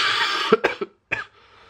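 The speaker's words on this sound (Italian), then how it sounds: "Ovviamente la tosse non mi passa neanche morto" A short fit of coughing up close, three quick rough coughs followed by one more after a brief pause.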